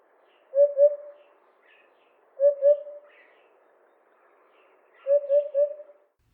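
A Eurasian hoopoe calls three times, each a soft, low hoop-hoop-hoop burst of two or three notes, separated by quiet pauses against a silent background.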